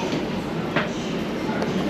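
A Koleje Dolnośląskie regional train arrives in Wrocław with a dense, close rumble of rolling rail noise and a couple of brief clunks, while a muffled voice is faintly mixed in.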